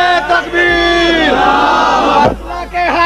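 Large crowd at a religious gathering shouting a chant back in unison in response to a call: loud, sustained massed voices rising and falling over about three seconds, close and powerful.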